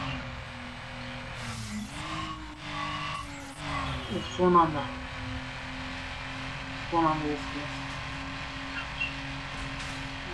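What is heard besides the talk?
car racing with tire squeal in Need for Speed Underground video game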